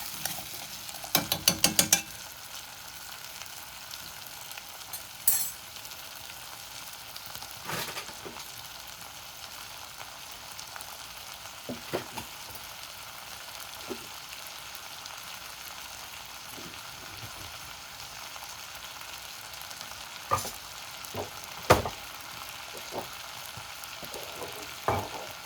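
Ribs fry in a pan with a steady, quiet sizzle. Occasional louder clatters and scrapes cut through it, like stirring or a utensil knocking against the pan.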